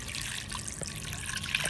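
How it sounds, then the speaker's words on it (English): Water poured into a shallow terracotta dish set in a garden with logs inside, making a faint, steady trickle that runs quietly throughout. "Just fill that with water"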